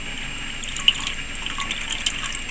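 Water is poured over a nitinol heat engine wheel, giving a soft, steady trickle and splash with a couple of faint drip-like ticks, quiet and without voices.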